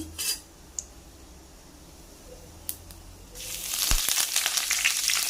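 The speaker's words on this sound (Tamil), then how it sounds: "பெருஞ்சீரகம் பொரிஞ்ச உடனே" Fennel seeds fry in hot oil in a pan while goat blood stir-fry is prepared. A few faint clinks come first, and then a loud, steady sizzle rises suddenly and continues close up.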